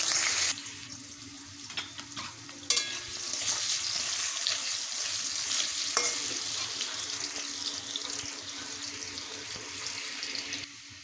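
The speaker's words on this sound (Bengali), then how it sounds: "এবারে ওই তেলেই আলুগুলোকেও ভেজে নেব" Potatoes frying in oil left from frying eggplant, heard as a dense, continuous close sizzle that holds steady for several seconds with no other sounds.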